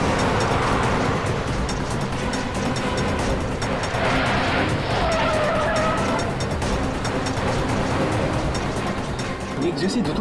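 Two identical cars drive fast with loud tire skids and squeals over a dense, continuous roar of engines and dramatic background music, and a voice speaks briefly over the sustained noise.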